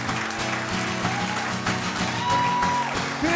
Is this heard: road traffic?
no